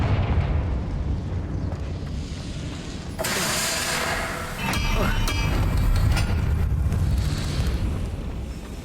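Confringo blasting spell in Hogwarts Legacy bursts into a rumbling explosion over dense background game noise, with a second swell of blast and debris later, loud and sustained.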